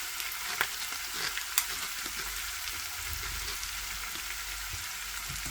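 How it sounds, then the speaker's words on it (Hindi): Two medium, finely chopped onions frying in a pan over low flame make a soft, continuous hiss with a few light stirring taps and scrapes near the start, and no talking. "और प्याज को फ्राई करेंगे उस वक्त तक जब तक के प्याज अपना कलर बदल ना दे।"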